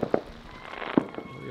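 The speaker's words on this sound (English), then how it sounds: "We got little fireworks shells going everywhere." Small fireworks shells pop and crackle around a hill at a Fourth of July party, two sharp bursts standing out among scattered quieter crackles nearby.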